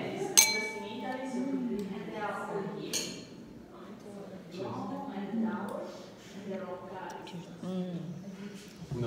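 Wine glasses clink during a wine tasting in Pancole, Italy: a bright, ringing toast near the start and a second clink a few seconds later, heard under continuous conversation.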